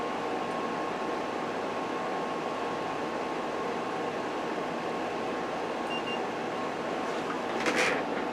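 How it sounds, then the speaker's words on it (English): Window air conditioner unit blowing air, a steady broadband whoosh with a faint constant hum, even and unbroken throughout, with a brief rustle near the end. "Let's see what the temperature is coming out of the air conditioner."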